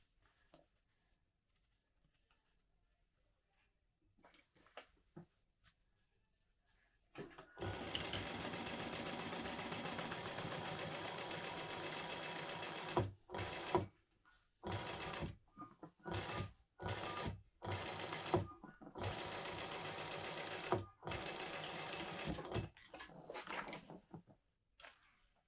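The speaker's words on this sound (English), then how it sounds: "I'm going to sew it on. Again, I'm going to follow this line so that everything fits nice and snug." A sewing machine runs in loud, steady bursts broken by short pauses, stitching a lining piece onto a modified Trailblazer jacket, after several seconds of near silence.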